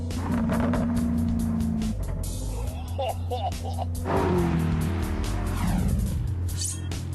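An Alfa Romeo 8C sports car engine burbles and pops on overrun as revs fall off, with whining drivetrain and rushing road noise, loud and close, a voice briefly audible underneath.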